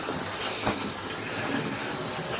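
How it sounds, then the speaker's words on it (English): A Hornby King Class model locomotive, King Edward VIII, runs on its track with a steady rushing rattle and a brief click, close and continuous with no talking. "I'm just going to take the locomotive round now."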